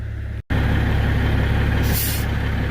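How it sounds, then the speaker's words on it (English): Lowboy truck trailer's airbags being filled through the supply air line: a loud, steady hiss of air close by over an idling heavy engine, with a short cut near the start and a brighter burst of hissing partway through. "I got the supply air line hooked up to the trailer. That will air up the airbags."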